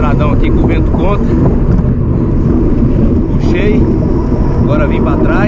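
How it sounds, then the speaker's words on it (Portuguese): Strong headwind roars into the microphone as mountain bikers ride a dirt road during a stage race in Brazil, a constant loud buffeting with faint engine-like rumble and no speech. "Pegamos um estradão aqui com o vento contra."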